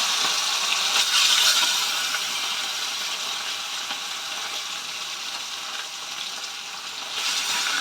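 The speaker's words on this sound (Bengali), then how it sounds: "আমি মাছগুলো ফ্রাই করে নেব" Continuous crackling sizzle of katla fish frying in hot oil in a wok, fairly loud and even throughout, with brief swells of spattering.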